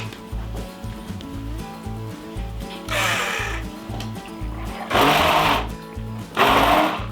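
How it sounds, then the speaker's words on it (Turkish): A hand blender whirs in loud bursts, cutting in and out, over a steady low mechanical hum, pureeing vegetables for chicken soup. "Şimdi mikserle"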